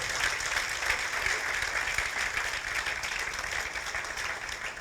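A church congregation at a Spanish-language sermon applauds, a dense, steady roar of many hands clapping close and full from start to end without a pause.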